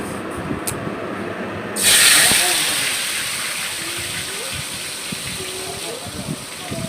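Marinated chicken hitting hot oil in a wok on a gas stove, a sudden loud hissing burst that settles into a steady sizzle, close by with a voice talking over it.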